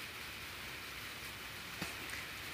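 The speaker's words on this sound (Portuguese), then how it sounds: "o barro, porque tá chovendo," Steady rain falling outdoors by a muddy floor and potted fern, a continuous hiss of drops throughout with a couple of slightly louder close splashes, no voices.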